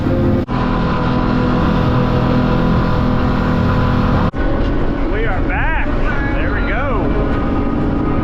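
A fishing boat motors back over flat, calm water off Orange Beach, its engine a steady, loud drone throughout, with a brief dropout partway and faint voices or squeaks toward the end.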